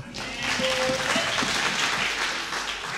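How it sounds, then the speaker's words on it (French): Church congregation at a Sunday service clapping for the Bible reader, a broad wash of applause rising quickly and holding evenly for a few seconds, with a faint voice or tone threading briefly through the middle. "On peut applaudir mon lecteur."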